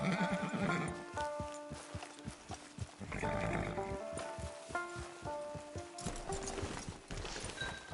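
Horses in the video game Red Dead Redemption 2 Online neigh and whinny loudly while hooves clip-clop in steady rhythmic steps nearby, several shrill whinnies rising over the clopping across the clip.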